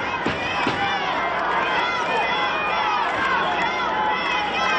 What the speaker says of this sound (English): Enthusiastic crowd on hand with us tonight in Louisville